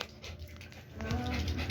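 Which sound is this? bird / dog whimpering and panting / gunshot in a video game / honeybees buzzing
dog whimpering and panting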